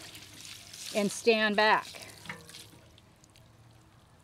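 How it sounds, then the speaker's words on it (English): Water poured over potted succulents in a Sunset Cliffs garden gives a soft, steady splashing wash under a brief spoken phrase, then continues quietly alone. "Give it some water"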